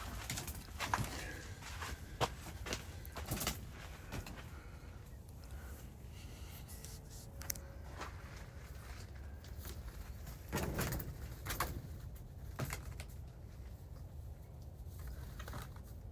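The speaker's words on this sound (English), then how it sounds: "I have a bird inside my tent." A bird trapped inside a tent in the desert near Quartzsite coos softly a few times amid rustling and scattered taps, close and fairly quiet, with no talk.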